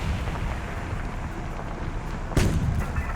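A WW2 tank cannon in a tank video game fires once with a sudden heavy boom that rolls off slowly, cutting through a dense, constant wash of battlefield noise.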